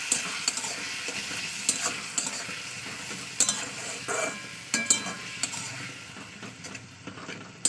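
Stone-ground spice paste being mixed into frying food in a pan, close sizzling with repeated clattering, scraping strokes of a spoon at an uneven rhythm, no voices.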